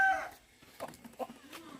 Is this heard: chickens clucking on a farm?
yes